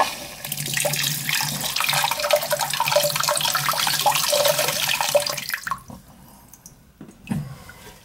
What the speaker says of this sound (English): I'll put my hand over this and turn the water on for a quick one.